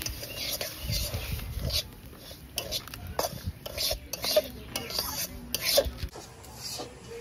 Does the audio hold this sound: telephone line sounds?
no